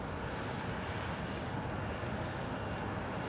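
A United airliner taxis past at Tucson International Airport, its jet engines giving a steady, broad roar that holds loud and even throughout without any spoken voices.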